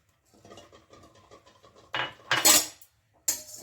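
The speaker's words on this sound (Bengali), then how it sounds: "আমি কিছু মশলা আমি ভেজে নিচ্ছি" Whole spices such as coriander seeds dropped into a pan for pickle-making, with light scraping and metallic clinks of a utensil against the pan, building to a few louder bursts of sizzle-like rattling near the end.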